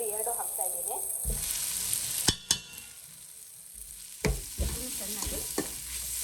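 Rasam powder and grated coconut being stirred into a pan of cooked food, with a soft continuous sizzle broken by several sharp scrapes and clinks of the spoon against the pan; no talking.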